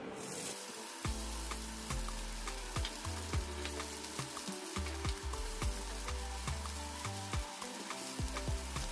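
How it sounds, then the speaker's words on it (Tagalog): Butter sizzles and fries steadily in a pan while food is stirred, with repeated sharp scraping strokes and clinks of a utensil against the pan throughout, close and fairly loud, with no talking. "maglalagay lang po ako ng mga 1 tablespoon lang na butter. Then, sosotay lang natin to ng bahagya lang."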